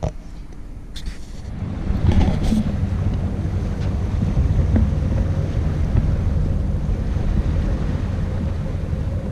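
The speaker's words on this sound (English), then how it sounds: "As you can tell, it's really windy" Heavy wind buffets the microphone aboard a boat cruising the Irish Sea, a constant low roaring rumble that swells slightly after the first couple of seconds and never lets up.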